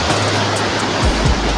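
Sea waves wash onto a beach in a loud, continuous broadband roar, with low thuds of surf and wind buffeting close by, no voices.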